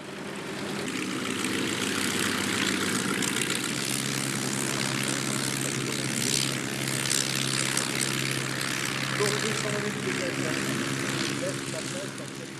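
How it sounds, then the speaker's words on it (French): Propeller planes take off one after another from an airstrip at the La Ferté-Alais air show, with a steady loud engine and propeller drone throughout and a voice speaking over it. "Un par un, les avions prenaient leur envol et quittaient la piste baignés par une brume légère."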